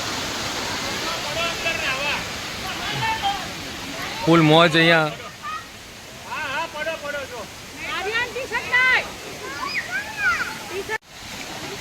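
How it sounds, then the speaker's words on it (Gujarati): A waterfall on the Son river in a forest, a steady broad roar of rushing water under someone talking over it. "તો ભાઈ જો ભાઈ મસ્ત પાણી છે જ્યાં, મસ્ત ધોધ જઈ રહ્યો છે."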